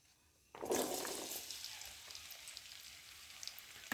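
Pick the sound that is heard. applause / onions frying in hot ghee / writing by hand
onions frying in hot ghee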